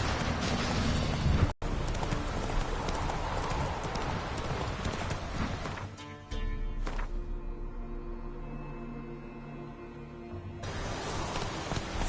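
A horse gallops in The Witcher 3 video game, a loud, steady clip-clop of hooves that cuts out around the middle for several seconds before the galloping returns.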